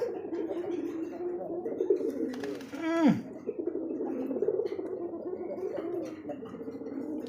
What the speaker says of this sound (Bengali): অবশ্যই কবুতর কিন্তু কম বেশি সবাই ডাকছে